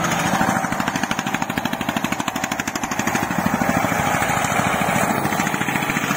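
Eicher 485 tractor working in third gear while pulling a computer leveller across firm soil, its diesel engine giving a loud, close, steady rhythmic thumping throughout with no voices.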